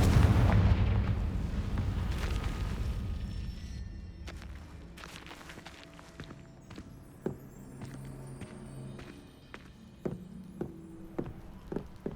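A Confringo blasting spell explodes in Hogwarts Legacy as a loud, close boom that rumbles and slowly fades, followed by scattered light footsteps and clicks.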